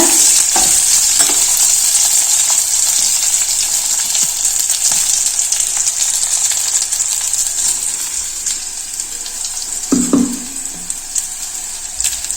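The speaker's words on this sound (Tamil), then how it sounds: "இந்த வெங்காயம் பாவக்காயெல்லாம் கொஞ்சம் வதங்கட்டுங்க" Onions and bitter gourd sizzle steadily in a hot pan for bitter gourd curry, with occasional soft scrapes of stirring, close and continuous.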